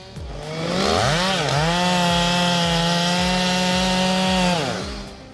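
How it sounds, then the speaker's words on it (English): A big Stihl MS 661C chainsaw bites into a large oak, its engine revving up to a loud, sustained high whine under load before easing off at the end, close by. "Let's see how the Stihl MS 661C handles this challenging cut."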